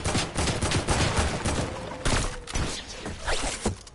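Rapid sniper rifle shots ring out in a French-language PC shooter match, sharp cracks tumbling over one another in a dense, loud burst with little pause for about four seconds.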